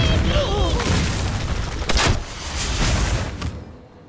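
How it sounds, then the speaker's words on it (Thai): A bomb goes off in the Hearthstone card game, a loud booming blast with a rumbling tail and a second sharp hit about halfway through, over a busy game soundtrack. "โอ้ยแย่โยนระเบิด"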